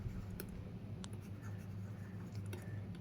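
Pen or pencil scratches softly across paper while a math expression is written out by hand, quiet intermittent strokes with a few small taps, close up and alone.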